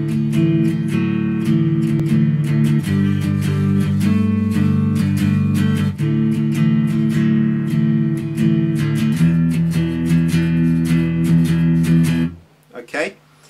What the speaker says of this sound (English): What we're going to do is put your guitar to a nice clean tone